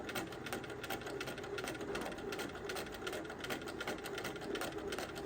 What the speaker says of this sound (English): to just be able to sew and create and draw with your sewing machine